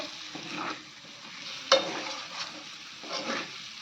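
Potatoes stir-fried in a pan, a soft continuous sizzle with scraping stir strokes and one brief clink of the utensil, close and gentle, no voices.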